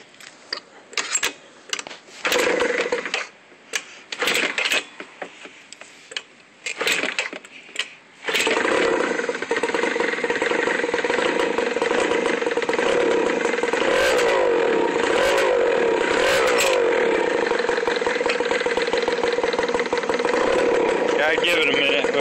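An Adly Fox 50 scooter engine starts after some handling and clatter, then settles into a steady, buzzy idle as it warms up, close and loud throughout, with a voice speaking over the early part.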